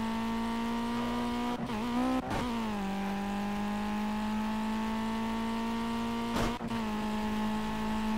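Race car in Project CARS holds a steady buzzing engine tone at constant revs, broken by a few short gear shifts or throttle blips, with the engine settling back into its drone each time.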